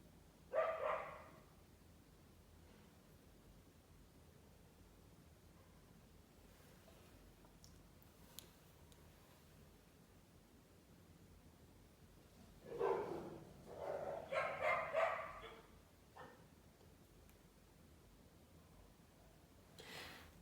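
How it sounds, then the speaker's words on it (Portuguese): Faint, distant dog barks come in two short bursts, a single yelp near the start and a cluster of several barks later, over a quiet room tone with no speech. "Se eu gravo na minha mãe, tem cachorro."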